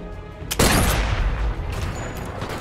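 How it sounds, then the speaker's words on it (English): A single sharp sniper rifle shot from the VR game Sniper Elite VR cracks loudly near the half-second mark, followed by a long rumbling echo that slowly fades, with no talking. "I really missed that shot."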